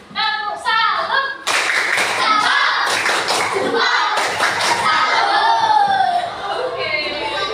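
An elementary school class at SD Negeri Cepagan 02 performs the tepuk salut clapping routine: loud, rhythmic group clapping in quick bursts, mixed with children's voices chanting along.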